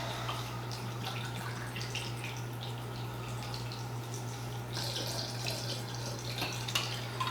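Cask-strength Tennessee straight rye whiskey poured from a freshly uncorked bottle, a faint steady trickle of liquid sitting under a constant low electrical hum.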